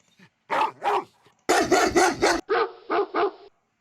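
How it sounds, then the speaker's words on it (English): Dog bark sound effect found in Roblox Studio: a run of sharp, close barks in quick pairs and clusters, about nine in all with short gaps between groups. "I'm just gonna look up dog bark again"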